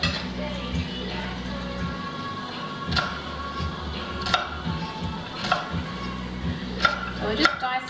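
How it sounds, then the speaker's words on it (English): Onions diced with a knife on a cutting board for a simple seafood meal, a steady series of sharp, close taps scattered through the clip over a low background hum. "So we're just dicing up the onions here."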